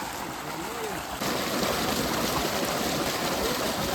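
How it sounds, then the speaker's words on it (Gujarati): Water pours steadily from a motor pump at a village farm well, a continuous rushing flow that grows slightly louder partway through, heard close and alone. "જો આ કૂવો છે, એમાં મોટર છે અને મોટર અત્યારે ચાલુ છે ને એમાં પાણી આવે છે."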